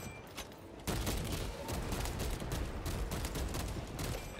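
Rifle fire in the video game Warhammer 40K Space Marine 2, a sudden onset of rapid, continuous shots forming a loud, dense barrage that keeps going to the end.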